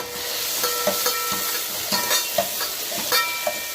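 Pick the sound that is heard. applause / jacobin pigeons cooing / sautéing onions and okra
sautéing onions and okra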